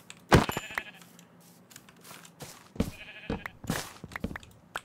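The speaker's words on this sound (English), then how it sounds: "I hear some sheeps." Sheep bleat in the video game Minecraft, several short calls scattered among other faint game sounds, moderately loud and close.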